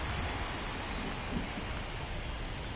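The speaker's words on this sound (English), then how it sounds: "This rain is not letting up" Steady, dense rain pours down in the baseball video game MLB The Show 24 during a Yankees game, a constant hiss with no other prominent sounds.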